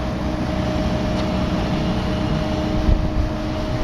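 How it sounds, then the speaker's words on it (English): A Steam Brite Hornet truck-mount carpet cleaning machine runs its engine with a loud, steady mechanical drone and a faint rise in speed, continuous throughout with no talking. "as you move it to the left, your engine speed should increase"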